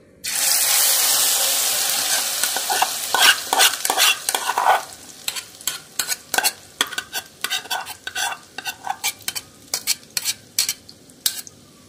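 Cabbage and egg batter poured into hot oil hisses in a loud, steady sizzle for the first few seconds, then breaks into a rhythm of sharp spatula scrapes and stirs over a quieter fry, with no talking.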